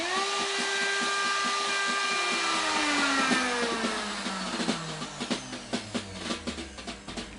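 A router whines steadily while cutting a bridge pickup cavity into a guitar body, the tone dropping as it winds down, followed by a series of sharp knocks and taps near the end.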